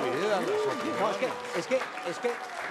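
An audience at a political forum with a politician answering young people gives a burst of applause and crowd noise, running under steady, close speech.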